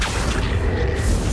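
The Accio spell cast in Hogwarts Legacy, a brief dense booming whoosh lasting just over a second, loud and heard alone.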